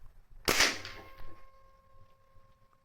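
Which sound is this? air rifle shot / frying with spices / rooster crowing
air rifle shot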